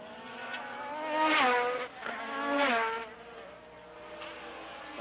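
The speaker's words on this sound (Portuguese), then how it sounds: "Aí você sente o ronco do motor." Formula 1 car engines at the 1984 Brazilian Grand Prix, high revving roar rising and falling in pitch as cars pass through the corners, two strong swells then a quieter drone, no talk over it.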